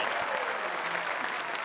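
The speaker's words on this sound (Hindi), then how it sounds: "तालियां तालियां।" Applause fills a casino in a comedy film scene, a dense steady wash of clapping from a crowd that runs without a break from start to finish.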